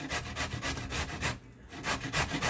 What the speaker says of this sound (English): We're going to grate the other one.